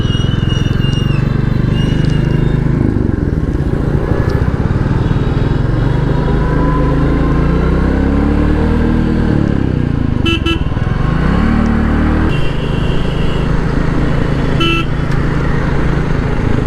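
A Royal Enfield Classic 350 motorcycle on a test ride turning around on a road, its engine thumping loudly and continuously up close, rising and falling in pitch, with a few brief horn toots from traffic.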